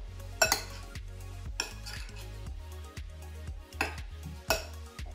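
Ingredients for a mango salsa with lime juice, salt and pepper being mixed in a bowl: a few sharp utensil clinks and knocks against the bowl in an irregular rhythm, close and fairly loud, with no talk.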